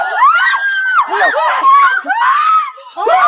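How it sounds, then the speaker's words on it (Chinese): A girl in a Korean horror drama lets out a series of loud, shrill, wavering screams. Several sustained cries come in quick succession, close and dominant, with brief gaps between them. "她情绪崩溃的惊声尖叫，瞬间吸引了其他学生的注意"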